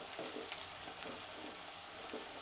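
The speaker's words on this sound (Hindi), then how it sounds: "अब बचे हुए तेल में हम अनियन फ्राई कर लेंगे" Onions fry in leftover oil over a medium to high flame, making a quiet, continuous sizzle with light stirring taps. The sound is fairly faint and there is no talking.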